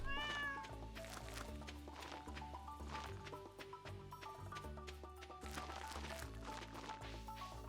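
A cat meows briefly near the start in Stardew Valley during a speedrun. The short call is followed by steady game music and clopping effects, and no one speaks.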